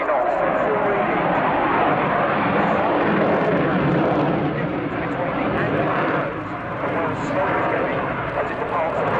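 Belgian Air Component General Dynamics F-16AM Fighting Falcon accelerating to full reheat at a flying display, a loud sustained afterburner roar filling the whole clip with a brief dip midway.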